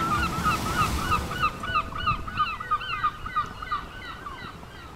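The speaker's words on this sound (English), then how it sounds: "Do you hear the seagulls?" Seagulls call repeatedly at the shore, a run of rhythmic, honking cries at moderate distance over a steady wash of surf.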